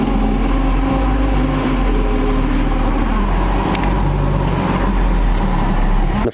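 A Nissan 240SX S13 with a bad pilot bushing idles up close, a steady low engine drone with a faint rattling, scraping undertone running continuously and unbroken, with no talking.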